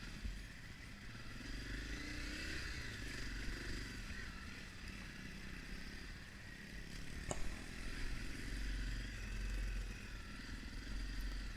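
A 2020 Honda CRF250F dirt bike engine drones steadily on a woods trail ride, a close, buzzing rumble with slight rises in throttle and no talking.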